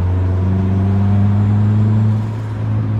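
A boosted Honda Civic drives close by with a loud, steady engine drone. The pitch holds, then dips slightly near the end.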